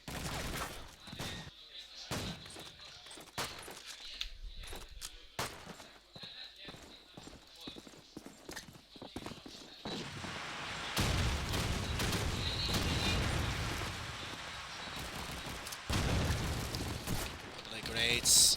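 Frag grenade blasts and rapid gunfire from a competitive video game match, sharp shots at first, then heavier rumbling explosions, all under a commentator's continuous talk.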